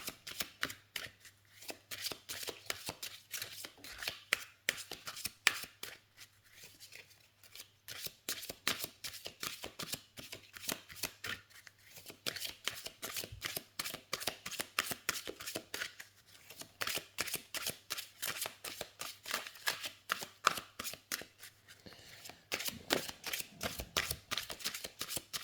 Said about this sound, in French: les cartes se mélangent très très bien. Elles ne collent pas entre elles.